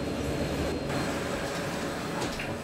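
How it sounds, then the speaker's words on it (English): A mountain train arrives at a snowy Swiss station, a steady loud rumble of wheels and rolling stock with a faint squeal near the end and no voices over it. "Yay! The train!"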